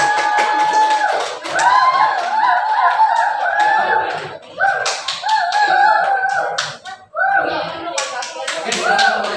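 A classroom of students clapping for a group, brisk scattered applause mixed with laughter and chatter, close and fairly loud, with pauses between bursts.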